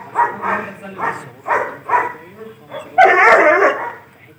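A dog barks defensively at someone approaching its owner, giving a series of about seven sharp, loud barks at a steady rhythm, close by, ending in a harsher burst, with a voice mixed in.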